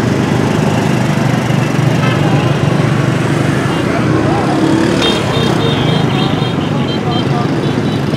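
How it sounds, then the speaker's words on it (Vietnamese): Powerful water pump engine roaring steadily while spraying to fight a fishing boat fire at Tắc Cậu, a loud continuous mechanical drone with voices talking over it. "Máy bơm mạnh quá à."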